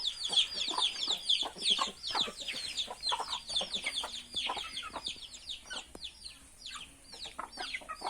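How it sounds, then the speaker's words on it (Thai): A flock of village chickens clucks and chatters continuously at moderate distance, many overlapping short calls with no voices. "นี่เลี้ยงไก่บ้านๆ ก็เนี่ยเลี้ยงเล็กๆ น้อยๆ นะครับ"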